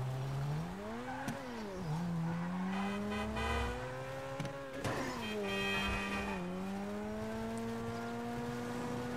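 A dented car's engine in Grand Theft Auto V drones steadily, its pitch sliding up and down as it revs, with brief tire squeals breaking through the continuous roar.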